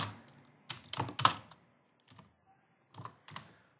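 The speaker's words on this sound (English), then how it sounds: "I just type in name and then just type in whatever the name." Quiet computer keyboard typing in short irregular bursts, a few quick clusters of key clicks separated by silent pauses.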